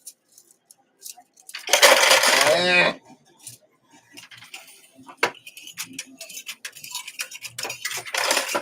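Quarters pour from a high-stakes coin pusher machine in a loud rattling cascade lasting about a second, followed by scattered clinks and jingles of coins settling.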